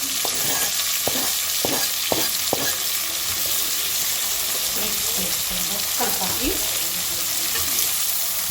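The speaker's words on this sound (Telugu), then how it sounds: "ఇప్పుడు వచ్చేసి మనం కరివేపాకులో పచ్చిమిర్చి వేసుకుంటాం" Curry leaves and green chillies hit hot oil with fried onions, giving a steady loud sizzle with several sharp spatula clacks against the pan early on, then continuous stirring and crackle; no one speaks.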